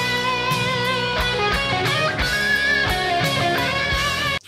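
A distorted electric guitar plays a solo phrase, with sustained, bending notes in a steady legato line that stops abruptly at the end.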